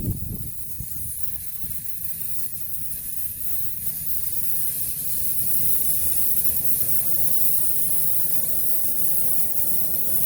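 An oxy-acetylene Cap N Hook torch brazes copper tubing onto an HVAC vapor service valve that is wrapped in a wet rag, producing a steady, close, bright hiss of flame that holds evenly throughout.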